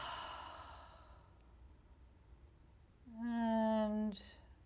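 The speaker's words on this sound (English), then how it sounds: "One more inhale and exhale." A slow, deep breath drawn in and let out during a guided Reiki relaxation, starting as a soft airy inhale and ending in a louder, voiced sighing exhale, close and alone.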